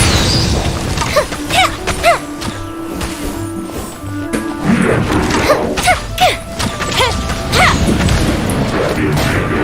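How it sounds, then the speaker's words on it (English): Fireworks in the video game Genshin Impact burst in a quick run of loud booms, pops and whistling rises, close and crowded together, with game music and effects around them. "Here come the fireworks!"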